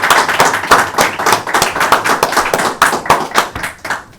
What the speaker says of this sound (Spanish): darle un aplauso